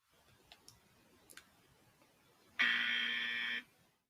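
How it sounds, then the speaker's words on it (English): Faint ticking clicks come first, then a loud, flat game show buzzer blares for about a second to mark a wrong answer, stopping abruptly. "So give me the buzzer again,"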